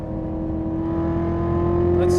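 A 2015 Chevrolet Corvette Z06 accelerates hard uphill on a race track, a loud steady engine drone climbing in pitch and building toward a quick gearshift near the end, heard from close by with a voice talking over it.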